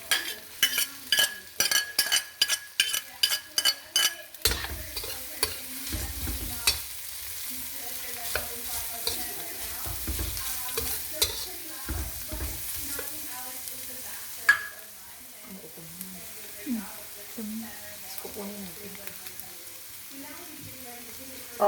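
Garlic frying in a pan while pancit bato is cooked, with a steady sizzle and a spatula stirring and scraping against the pan, preceded by a rapid run of knocking taps.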